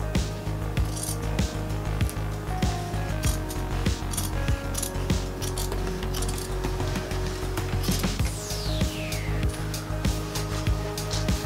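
Scissors snip through jacket fabric while tracing a cut-out template, with repeated close clicks of the blades and small metallic clinks scattered throughout.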